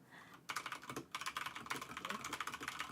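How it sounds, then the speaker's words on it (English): Someone types steadily on a computer keyboard during a call. Rapid, fairly quiet key clicks come in bursts with a brief pause near the start, and no one speaks. "It's just her typing when she's not talking."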